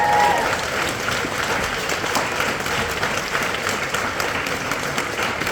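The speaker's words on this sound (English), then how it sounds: "Keep that clap going, raise the roof" A comedy club audience applauds a comedian with loud, dense, sustained clapping that holds steady throughout, full and close with a crowd murmur underneath.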